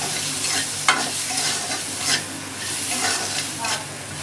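A small-fish mourola curry with raw mango, turmeric and chili powder is stirred in a hot pan. A steady close sizzle runs under repeated soft scraping strokes, with no voices.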